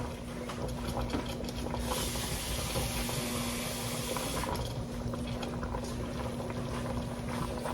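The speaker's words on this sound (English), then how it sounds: "I'm going to add a small bit of water" Water pours into a pot where pork neckbones and potatoes simmer, giving a steady, close hiss and bubbling wash. The pouring swells for a few seconds before settling back to a continuous boil.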